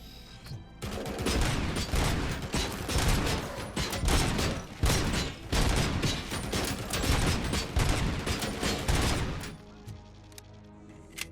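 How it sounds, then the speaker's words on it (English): Heavy machine gun fire in the RoboCop: Rogue City video game: a long, dense fusillade of rapid shots, loud and close, rattling for about nine seconds before cutting off to quieter game ambience. "We got a heavy machine gun over there."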